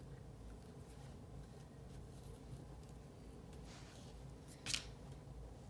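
A single quick snip of scissors cutting through crochet yarn, faint and brief, over a quiet room hum.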